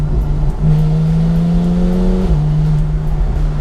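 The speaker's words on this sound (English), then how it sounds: "you obviously rev Porsches out" A Porsche 993 engine drones loudly inside the car, holding a steady note and then rising slightly in pitch before dropping as it shifts, with no talking.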